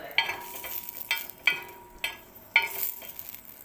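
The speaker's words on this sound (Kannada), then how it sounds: "ಸ್ವಲ್ಪ ಹಸಿಮೆಣಸಿನ್ಕಾಯಿ ಹಾಕಿ ಹುರ್ಕೊಳ್ಳೋಣ ಸ್ವಲ್ಪ" Green chillies fry in oil in a pan, a soft sizzle broken by about five sharp scraping stirs of a spoon at an irregular pace.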